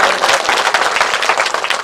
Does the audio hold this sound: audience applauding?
yes